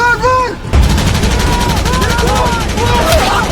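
Automatic fire from an M4 assault rifle in a movie scene: a loud, dense, continuous burst of rapid shots. A short voice-like tone comes just before the burst.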